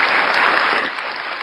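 Brief burst of audience applause, a dense even wash of clapping that fades slightly toward the end, with no voices on top.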